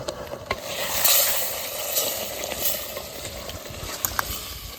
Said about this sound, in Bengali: আমাদের মাংস এখন হচ্ছে কষা